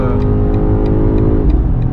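A BMW XM engine accelerates hard as heard from inside the cabin, a loud, continuous rising drone with steady harmonics and faint periodic ticks, no talking.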